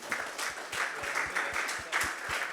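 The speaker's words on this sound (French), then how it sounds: "on peut applaudir Jean-Christophe Tortora, s'il vous plaît" A ceremony audience at a tech startup event applauds Jean-Christophe Tortora. The moderate, steady clapping is heard from a little distance, with a faint regular low thumping beneath it.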